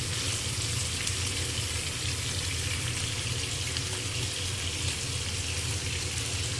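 Pomfret fish frying in oil on a tawa over a medium-low flame, a steady, even sizzle with constant crackling hiss and no pauses or voices.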